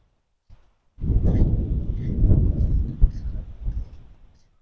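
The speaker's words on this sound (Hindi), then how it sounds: "अब थोड़ी आंधी कम हो गई है, पहले बहुत ज़्यादा थी।" A windstorm gusts over a cotton field, a loud roaring rush of wind buffeting the microphone that starts abruptly after a brief tap and stays strong with surges and a sharp peak midway.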